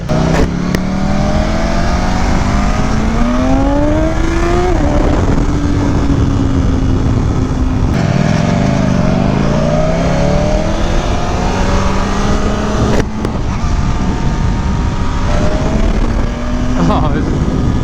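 A BMW S1000RR sport motorcycle with an unlocked engine revs hard and accelerates through the gears on a ride, loud and close, its rising whine dropping at each shift and climbing again while a rider talks under the noise.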